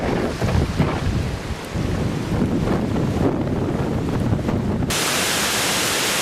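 Strong gusty winds from a supercell storm with large hail roar and buffet the microphone in loud, continuous rushes, ending in a broad steady roar.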